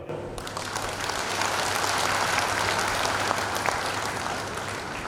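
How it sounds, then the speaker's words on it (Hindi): A church congregation at a Hindi worship service claps hands together, producing a steady, dense wash of applause that holds at even loudness for several seconds with no talking over it. "ताली बजाओ।"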